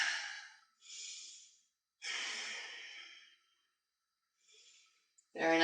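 Slow, deliberate breaths during a yoga exercise come through close and airy in several bursts with silent gaps between them, followed at the end by the start of a voice.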